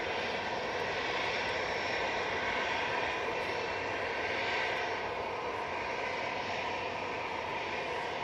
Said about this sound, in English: the Ryanair is finally coming on to 2-3 left, taking full length